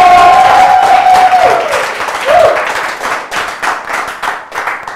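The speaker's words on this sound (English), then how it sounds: "A round of applause once again." Studio audience bursts into loud applause, dense clapping that fades gradually into scattered claps with a brief cheer partway through.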